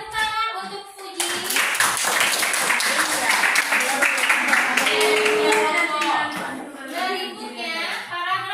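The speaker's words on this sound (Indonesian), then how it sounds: "Tepuk tangan untuk Fuji." A classroom of students applauds a classmate with a dense burst of clapping that starts suddenly and continues for several seconds, gradually thinning out, while a teacher's voice is heard over and after it.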